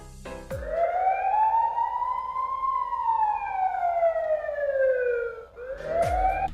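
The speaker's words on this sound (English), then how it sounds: "You can change this to police car sound by plugging this plug on the top one." A police-style siren from the sound unit of a 1/10-scale RC drift car wails steadily, its pitch rising and falling in one long sweep before briefly cutting out and restarting near the end; loud and close.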